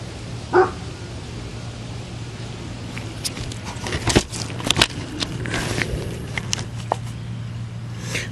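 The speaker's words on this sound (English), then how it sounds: "You will likely hear him barking at something in almost any video I ever do" A dog barks in a few short bursts, one early and a cluster later, fairly close, over a steady low hum, during indoor painting work on Drylok-coated stonework.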